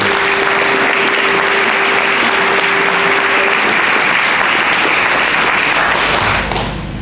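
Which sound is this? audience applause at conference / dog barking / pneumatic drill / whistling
audience applause at conference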